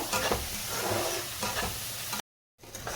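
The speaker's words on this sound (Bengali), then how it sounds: "এবার মশলাটাকে একটু কষিয়ে নেব।" Spice paste with salt sizzles and fries in a pan for a Bengali katla fish kalia while being stirred, giving loud, continuous crackling with scraping strokes before a brief cut to silence.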